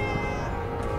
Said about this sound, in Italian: Ma c'è un micio. Ciao, micio.